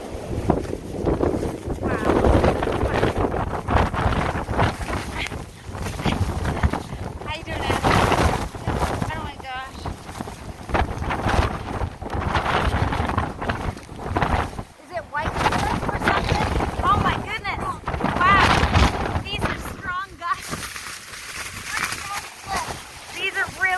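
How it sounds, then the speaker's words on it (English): Strong wind buffets the microphone in loud, roaring gusts throughout, with a person talking and exclaiming over the rushing noise. "Strong gusts of wind."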